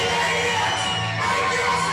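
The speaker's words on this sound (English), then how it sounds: "the crowd are electric for this match" Crowd at a Christmas cage fighting match cheering and whooping in a steady, dense roar that holds for the whole two seconds, with scattered shouts rising above it.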